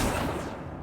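An Accio spell being cast in the video game Hogwarts Legacy gives one short, loud, broadband whooshing burst that quickly fades.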